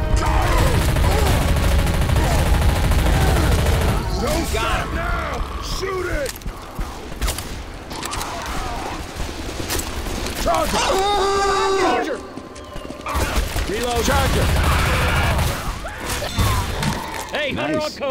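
Gunfire from players shooting zombies in Left 4 Dead 2, dense rapid shots and crashes mixed with creaking and clattering game effects, with excited voices shouting over the loud, continuous action.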